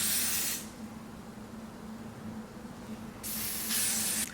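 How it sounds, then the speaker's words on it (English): Lace spray for a wig install hisses from a can in two bursts, one short at the start and another near the end, separated by a quiet gap and heard up close with no talking. "I'm just gonna kind of spread out the spray"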